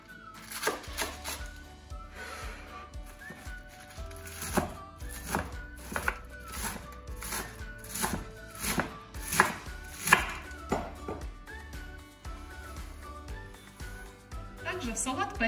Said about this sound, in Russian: Капусту нарезаю не крупно.